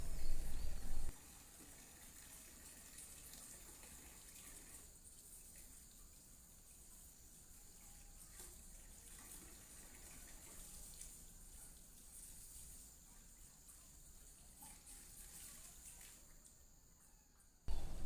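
Water running steadily while someone washes hands and feet, a faint continuous splashing flow with soft trickles, quiet and unbroken, with louder sounds bracketing it at start and end.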